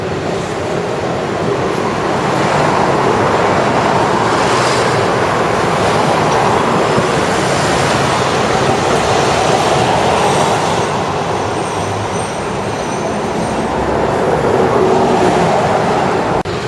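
A Nagasaki streetcar rolls past on its rails, a steady broadband rumble with faint rhythmic clatter that swells and holds close for many seconds.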